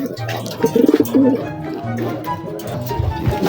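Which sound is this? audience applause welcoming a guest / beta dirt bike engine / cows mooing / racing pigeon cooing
racing pigeon cooing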